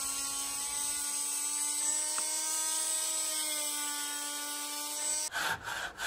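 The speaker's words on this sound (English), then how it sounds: "Sand them down as part of the fairing process." Power sanding of wooden plugs set into carvel hull planking, a steady loud whine with a constant tone running for about five seconds before a brief rougher burst of contact noise at the end, no voices.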